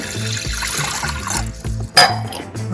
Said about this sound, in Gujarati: પેલા આપણે એક ગ્લાસ જેટલું પાણી એડ કરીશું